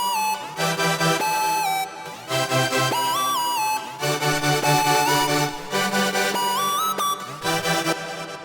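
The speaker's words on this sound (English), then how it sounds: "And then I introduced this lead sound, which together with the drop chords sounds like this." Future bass synth lead with gliding, pitch-bent melody over thick sustained drop chords, repeating in four-bar phrases with short gaps between stabs, loud and alone with no voices.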